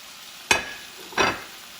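Bacon fries in a pan and is pressed down with a spatula, making two brief, loud bursts of sizzling about a second apart over a faint background hiss, with no talk.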